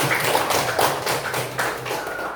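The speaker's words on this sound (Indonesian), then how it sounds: "Tepuk tangan buat Liza." A classroom group claps for a quiz show contestant in a brief burst of quick, close, somewhat uneven hand claps that trails off after a couple of seconds.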